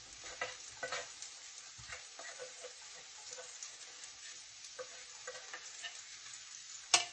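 Flour being stirred into sizzling buttermilk fried chicken drippings for country gravy, a steady close frying hiss with scraping stir strokes and a sharp clink at the end, no talking.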